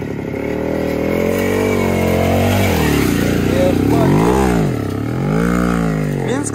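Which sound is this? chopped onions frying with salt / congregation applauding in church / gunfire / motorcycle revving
motorcycle revving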